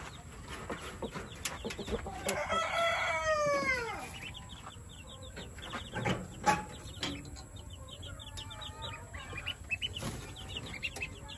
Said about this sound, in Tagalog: Tignan natin yung sisiw.